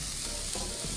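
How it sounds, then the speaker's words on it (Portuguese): Chopped onion sizzles in a thread of olive oil in a hot pan, a steady, close, hissing fry with no talk over it. "fiozinho de azeite, panela quente, cebola."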